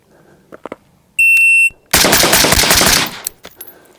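Rapid string of rifle shots from a Tactical Games competition rifle fired in a Bill Drill, loud and close, following an electronic shot-timer beep and ending with a few scattered sharp reports.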